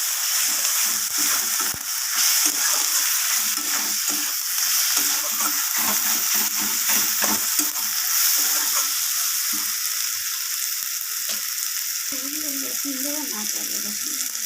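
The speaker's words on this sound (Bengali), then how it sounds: "আমি জিরে গুঁড়ো দিলাম মশলার সাথে আমি ভালোভাবে কষিয়ে নেবো" Spices with cumin powder fry in a pan for a fish curry, making a dense constant sizzle broken by rapid rhythmic scraping and clacking of a spatula, with faint talk late on.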